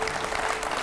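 A studio audience claps to welcome Uttar Pradesh ex-chief minister Akhilesh Yadav onto a news show, a brief burst of dense, loud, even applause.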